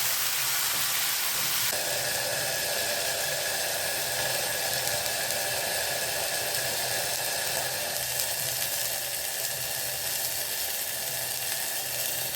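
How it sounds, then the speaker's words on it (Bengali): Ginger paste and tomato sizzle steadily in hot oil in a pan, a loud, continuous hissing fry that stays close and even throughout. "আদা বাটা টমেটো তেলে দিলে পরে তখন খুব ফোটে।"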